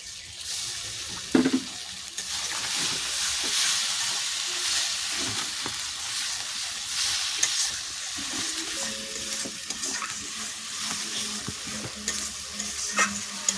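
Spices and tomato paste sautéing for a jackfruit and prawn curry, a steady close sizzle with scraping stirs and occasional clinks throughout, no talking.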